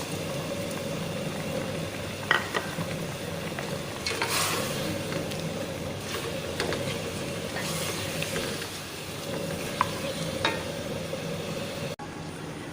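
Chopped tomatoes and green chillies tipped into a pot of chicken frying for pulao, a steady close sizzle with a few brief scraping stirs and clinks over a constant hiss, no voices.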